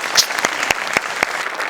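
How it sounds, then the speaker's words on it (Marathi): A few loud, close hand claps come in an even rhythm, roughly one every quarter second, after a comedy performance on the stage show Maharashtrachi Hasya Jatra. "बस मी टाळ्या वाजवू शकतो"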